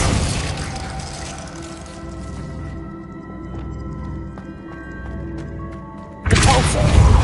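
Glacius freezing spell in Hogwarts Legacy: a loud icy burst that settles into a sustained ringing, shimmering crystalline tone with small chimes, then a sudden heavy rumbling blast near the end.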